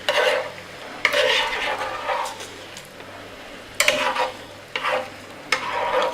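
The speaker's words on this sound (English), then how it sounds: "we got macaroni, which I should probably stir again real quick" A spoon stirs macaroni in a pot, with several short scraping sweeps in irregular bursts over a faint sizzling background.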